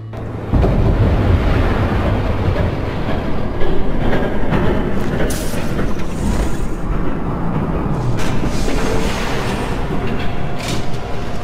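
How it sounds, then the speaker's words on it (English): In Batman: The Telltale Series, a train thunders past with a continuous rumbling, clattering roar and rushing wind, loud and close for about ten seconds with no talking. "There's a train coming."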